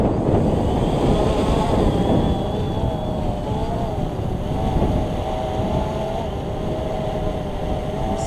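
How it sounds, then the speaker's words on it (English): Steady roaring wind buffets the microphone during a DJI Phantom 2 quadcopter's first flight, a loud continuous rush with a faint whining rotor hum running through it. "This is the wind."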